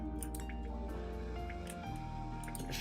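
Steady liquid dripping in a video game puzzle, small wet drops falling over a continuous layered musical background, with no talking.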